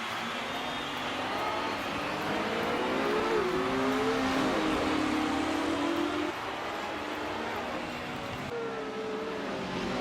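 Mid-1950s Formula One race cars, a Maserati and a Mercedes, roar steadily at close range through a corner, engine pitch climbing and falling with gear changes in a continuous, loud, dense racing drone.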